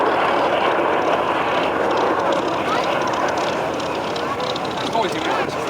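The Avro Vulcan XH558 bomber passes at the Duxford air show, its jet engines a loud, steady, broad roar that sits close and holds nearly constant throughout, with a voice talking faintly underneath.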